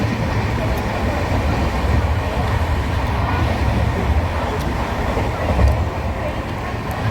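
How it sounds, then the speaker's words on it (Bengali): A passenger train runs at speed, heard from inside a carriage as a loud, steady rumble and clatter throughout, with faint background murmur. "ট্রেন আমাদের দারুণ জোরে ছুটছে, মনে হচ্ছে আজকে টাইমের আগেই পৌঁছে যাব।"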